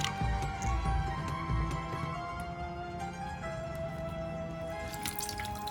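Distilled water mixed with glycerin trickles and drips into a jar of glitter potion, a soft continuous pour with scattered small drips, fairly quiet and close, with no voices.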